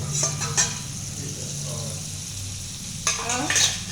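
Pav bread toasts in a pan, giving a soft continuous sizzle near at hand, with brief scraping and clinking bursts as it is moved around.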